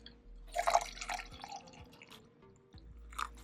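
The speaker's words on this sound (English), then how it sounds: "Add some warm water." Warm water pours and trickles into a cup, a brief splashing, gurgling burst early on that fades into quieter drips against a soft indoor hum.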